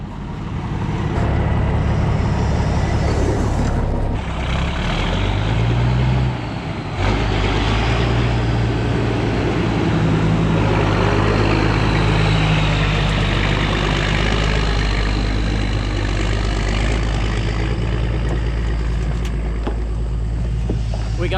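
A loaded farm truck carrying harvested beans pulls out, its diesel engine droning heavily and steadily with a lurch and pause around a gear change before pulling on, close by and continuous.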